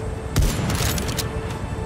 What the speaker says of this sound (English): I just put two bullets in him.